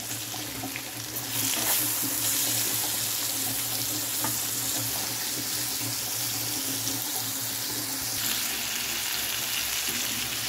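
Sarputi fish fry in a pan of hot oil with a loud, continuous close-up sizzle and spitting crackle that holds steady throughout, with no talking.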